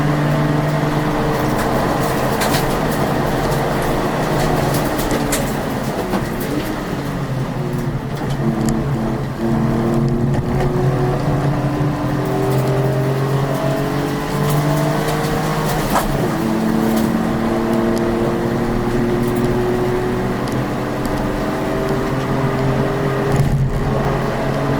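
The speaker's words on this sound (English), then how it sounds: "it's fantastic to see all these cars giving it large around this terrific circuit" City Car Cup hatchback race cars screaming around a circuit, a continuous dense roar of several engines revving and shifting through gears, loud and sustained throughout.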